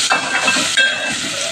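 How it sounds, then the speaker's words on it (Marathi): Chopped onion frying in oil in a pan while okra masala is being cooked gives a steady, close sizzling hiss with small crackles, and no one speaks. "कांदा, हे चांगलं फ्राय करायचं आहे।"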